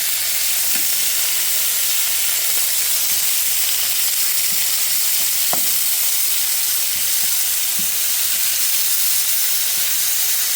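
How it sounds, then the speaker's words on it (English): Chicken sears in a hot frying pan with a steady, loud sizzle and hiss throughout, broken by a few small pops and spatters close by. "you want to sear your chicken for about 3 to 4 minutes per side before removing from the frying pan"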